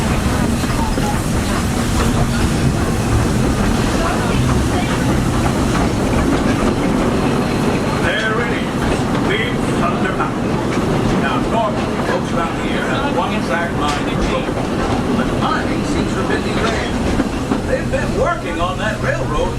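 The Walt Disney World Railroad train in Orlando, Florida rolls steadily on its rails with a continuous rattling clatter and rumble that fills the whole stretch, heard from on board. Voices murmur faintly underneath.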